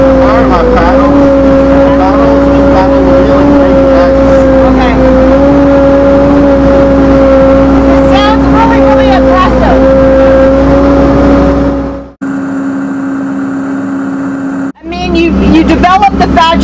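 A FAT Truck amphibious vehicle with paddled tires drives off-road over ice, its engine a loud, steady drone heard from on board, briefly dropping out near the end, while a person talks over it.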